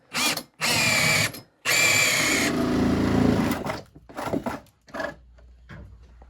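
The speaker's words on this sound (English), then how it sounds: "then you drill the holes, and I like to use a nice 1/2-inch paddle bit like this" A 1/2-inch paddle bit bores holes through wall studs during a bedroom electrical rough-in, the drill whirring loudly in two close bursts, followed by a deeper grinding pass through the wood that trails off into a few knocks.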